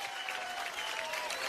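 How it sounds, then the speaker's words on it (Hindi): Sustained applause from an indoor hall audience at a cleanliness-campaign event, dense steady clapping throughout with no pauses. "परिणीति के लिए एक बार जोरदार तालियां हो गए।"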